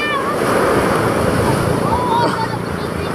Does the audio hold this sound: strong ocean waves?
yes